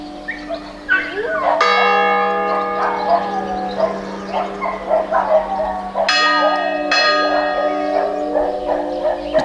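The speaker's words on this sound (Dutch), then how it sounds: "je wordt helemaal gek van die kerkklok" Church bells ring loudly in a Greek village, a sustained resonant peal that starts, pauses and resumes, with dogs barking and yipping in the background.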